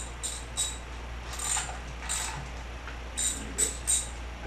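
A ratchet socket wrench clicks while tightening transmission bolts on a 1969 Plymouth Valiant during a 727 transmission and 360 Magnum install: short bursts of crisp metallic ratcheting, repeated in about eight brief groups over a low steady hum, close and moderately quiet.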